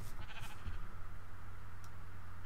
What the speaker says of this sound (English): Luring the sheep